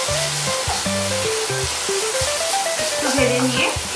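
Ground chili and ginger paste frying in a pan for a paneer dish, a loud, steady close sizzle that runs throughout while a person talks over it.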